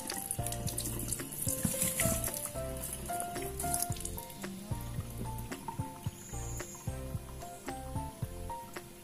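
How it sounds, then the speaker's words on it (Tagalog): An organic sweet papaya rinsed under a running kitchen faucet: a continuous close hiss and splatter of tap water throughout, with a melodic music bed playing underneath. "Hugasan ko muna dito."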